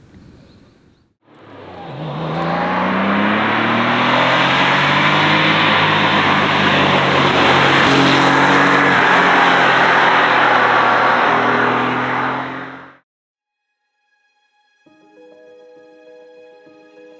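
A 1987 Porsche 911 Speedster, converted from a 911 Cabriolet, driving with its engine droning loudly and steadily close by for about ten seconds, pitch rising and falling through the gears, before cutting off abruptly to near silence.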